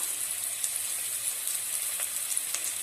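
Half-cooked vegetables for chicken fried rice fry over high flame in a pan, a dense close sizzle with scattered spatula scrapes and clicks as they are stirred, steady and unbroken for a few seconds.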